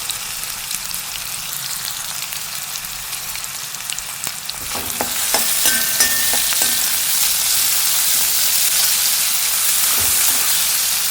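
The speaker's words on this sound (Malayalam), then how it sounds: "ഇതിനെ ഒന്ന് ചെറുതായിട്ടൊന്ന് വാട്ടിയെടുക്കാം." Sliced onion and green chillies sautéing in a pan: a quieter sizzle with stirring clicks, then a louder, denser frying hiss after about five seconds that holds steady to the end.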